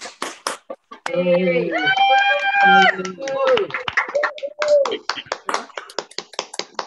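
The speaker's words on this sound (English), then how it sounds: "have a round of applause just for everyone involved" Participants on a Zoom call for an online Puss in Boots performance clap at their microphones, a string of sharp scattered claps at the start and end, broken in the middle by loud overlapping talk and laughter.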